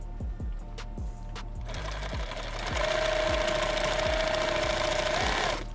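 A sewing machine stitches elastic onto an ankle med kit, its rapid mechanical hum starting in short bursts and then running loud and continuous at close range.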